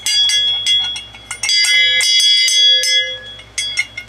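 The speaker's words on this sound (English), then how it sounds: "It's a dinner bell." A metal dinner bell mounted with a horseshoe is rung repeatedly by hand. It gives loud, close, bright ringing clangs with lingering tones between strikes and a brief pause midway.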